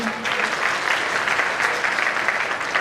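An audience at a community gathering claps steadily, a dense even wash of applause that fills the moment without a break.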